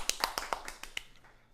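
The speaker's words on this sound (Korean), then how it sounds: "박수!" Students in a high school chemistry class give a short round of claps, about seven distinct smacks in quick succession that thin out and fade, close and fairly crisp.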